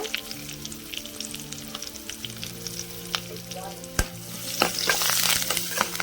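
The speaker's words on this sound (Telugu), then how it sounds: "కొంచెం పసుపు అండి, ఉల్లిగడ్డ, తాలింపు గింజలు, కరివేపాకు వేసానండి." Onion, mustard-type tempering seeds and curry leaves fry in hot oil for an okra stir-fry, a steady crackling sizzle with scattered pops and scraping stirs that grows louder and busier toward the end, no voices.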